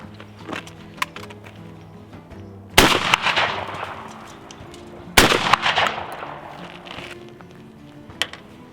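Two loud, sharp shotgun blasts fired with reloaded Remington STS hulls, each ringing out and echoing for a couple of seconds, with faint background sounds between them.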